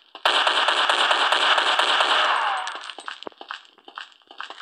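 Rapid automatic gunfire from an online strike shooter game rattles out in a fast burst of sharp shots for a couple of seconds, then tapers into scattered clicks and clanks, loud and close with no speech.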